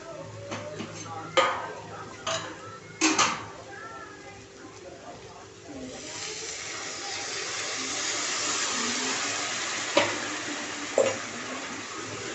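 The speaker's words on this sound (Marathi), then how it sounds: "इथे मी 1 ग्लास पाणी ॲड केलेलं आहे" A few clanks of a pot come first, then a steady rush of a glass of water pours into a pan of fried bombil fish for several seconds, with more clinks afterward.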